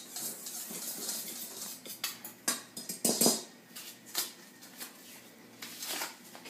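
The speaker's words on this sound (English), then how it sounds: "Whisk these 3 ingredients together" A whisk clatters against a mixing bowl while stirring baking powder, salt and flour together for Christmas cookies, making quick irregular clinks and scrapes at a soft, close level.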